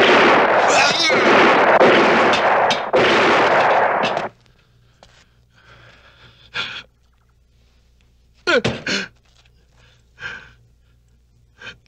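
A loud burst of rapid, broadband blasts like gunfire, then quiet with scattered gasps and breaths.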